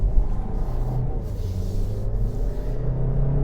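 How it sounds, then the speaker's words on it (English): A 2022 VW Tiguan SEL R-Line with 4Motion all-wheel drive and turbocharged four-cylinder engine accelerating hard through a turn, heard as a loud, steady low rumble from inside the cabin. "When you have the 4Motion and you just floor it in a turn, it just puts down all the power."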